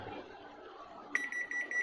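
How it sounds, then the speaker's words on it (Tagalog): Error alarm beeping from a Whirlpool top-load automatic washing machine with a missing door switch, a rapid series of high electronic beeps that starts abruptly about midway and repeats steadily over faint background noise. "Kaya nag-alarm guys kasi wala yung door switch"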